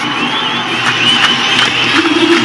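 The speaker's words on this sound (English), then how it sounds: "the crowd applauding 2 batters in the middle" Cricket crowd at a Sri Lanka versus New Zealand one-day international cheering and applauding two batters, a loud, dense roar of voices with whistles rising over it, continuous throughout.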